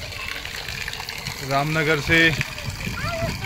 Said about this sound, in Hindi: देखो स्रोत का पानी कैसे आ रहा है